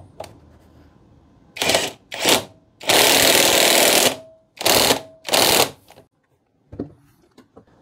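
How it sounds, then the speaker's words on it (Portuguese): An impact wrench hammers in loud, separate bursts, one long and several short, tightening bolts on a pipe clamp in a home workshop. "E agora eu vou apertar ele usando uma chave de impacto para dar um bom aperto nesses parafusos aqui."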